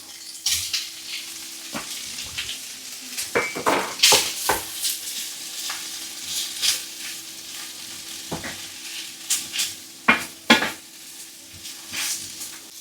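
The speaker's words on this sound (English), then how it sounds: "We're going to go ahead and add that corned beef now." Chunks of tinned corned beef sizzling in a frying pan for corned beef hash with tinned potatoes, a steady fry under repeated scraping and clinking as a spoon stirs and pushes the meat around.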